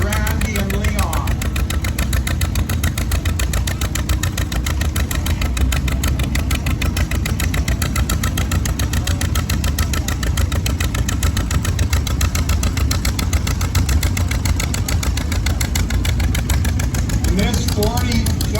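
A John Deere 40 tractor with a vertical two-cylinder engine runs at a steady, rapid chug, loud and close, with a speaking voice partly audible beneath the engine throughout.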